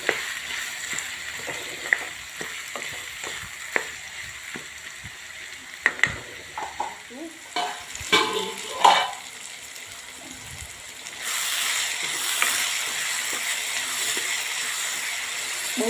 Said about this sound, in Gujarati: મિત્રો, બધું ડીપ ફ્રાય થાય છે